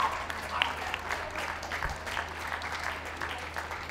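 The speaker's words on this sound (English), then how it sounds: "A huge round of applause, please, for our remaining group winners." Spectators at a championship dog show applauding continuously, a dense, fairly loud wash of clapping with faint crowd murmur beneath.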